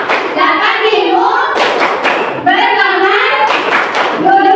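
Classroom of Indonesian schoolchildren performing a rhythmic group clapping chant, bursts of claps in patterned sequences with children's voices chanting along, fairly loud and close, in repeated phrases across the whole stretch.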